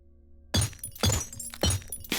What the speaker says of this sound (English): And we're going to break the glass at the bottom.